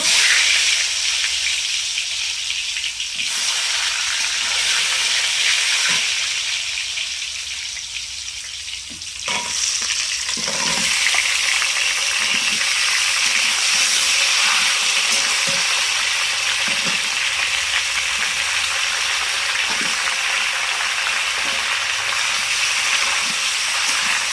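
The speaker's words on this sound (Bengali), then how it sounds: "এবার আমি লবণ হলুদ মাখানো আলুগুলো ভেজে নেব।" Salt and turmeric coated potatoes frying in hot mustard oil in a kadai, a loud, steady close-up sizzle lasting throughout, with occasional soft stirring knocks and no voices.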